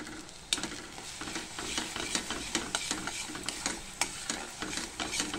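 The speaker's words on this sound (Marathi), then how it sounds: "आता हा छानपैकी आपल्याला खरपूस मसाला भाजून घ्यायचा आहे फिश करीसाठी" Ground spice masala with red chilli powder being stirred and dry-roasted in a pan for a tilapia fish curry, giving a steady scraping stir with rhythmic spatula clicks over a low sizzle.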